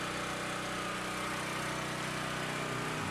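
A propane-converted generator engine runs steadily and loud at close range, its constant mechanical drone with a low harmonic hum holding unchanged throughout, with no voices.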